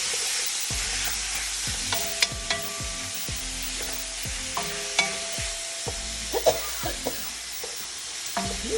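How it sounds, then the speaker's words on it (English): Chuck roast pieces sauté in a little oil in a pan, a steady close sizzle with repeated scraping and clanking as the meat is stirred and turned, no talk. "Just put it in the pan with a little bit of oil. We're going to saute this meat."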